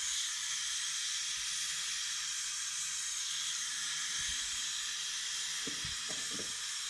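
Spinach boils lightly in a pot with a faint, even hiss of steam and a few soft low bubbling pops near the end. The sound is quiet throughout, with no voices.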